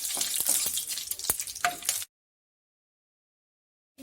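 Two dried red chillies sizzle in hot oil for a tadka for dhaba-style mati dal, a crackling, spitting fry with a few sharp pops that lasts about two seconds and then cuts to silence.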